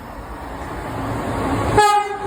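A train passes through Finsbury Park station with a rising rumble that builds, then a sharp horn blast sounds near the end, close and loud.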